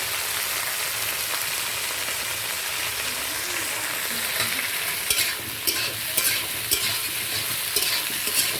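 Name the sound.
lightly frying vegetables in a pan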